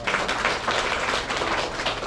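A book-club audience applauds after a member's talk, a steady dense patter of many hands clapping together at an even, moderate level in a room.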